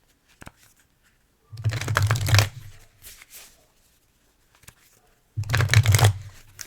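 Soul truth oracle cards are shuffled in two brisk riffling bursts, close and fairly loud, separated by light taps and handling noises and stretches of quiet.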